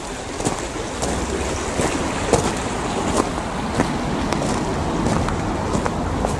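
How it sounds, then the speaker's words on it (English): A small river flows outdoors beside a Presbyterian church graveyard in Saintfield, giving a steady broadband rush of water mixed with gusty wind buffeting the microphone throughout. "there's a wee river here"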